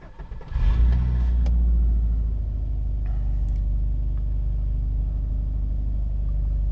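A Subaru WRX engine cranks and fires up with a loud catch, then settles into a deep, steady, rumbling idle as it warms, close to the microphone with no talking.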